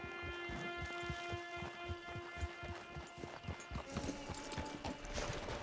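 Horse hooves clip-clopping at a steady walking rhythm in the video game Red Dead Redemption 2, clear regular hoofbeats over background ambience and music, moderately close.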